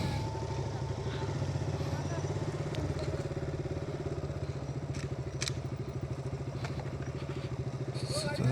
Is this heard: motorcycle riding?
yes